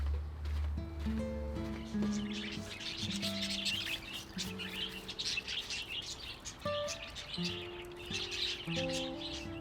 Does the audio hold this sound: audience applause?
no